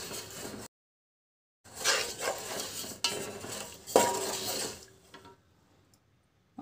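Jaggery melting in a pot is stirred with a utensil, giving scraping clinks and clatters in short bursts separated by brief silences, fairly close and moderately loud.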